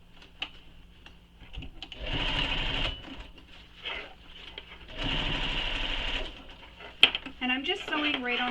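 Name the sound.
sewing machine stitching a bag seam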